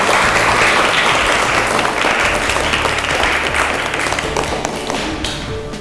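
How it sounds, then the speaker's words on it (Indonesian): A class of children at SMK Negeri 3 Bandung claps together in a classroom, a dense, loud patter of many hands that runs on for several seconds and thins slightly toward the end. "Tepuk tangan anak-anak."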